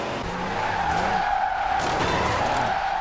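Tires squeal steadily as a car drifts in Forza Horizon 4, with a sustained loud screech over a low engine drone throughout.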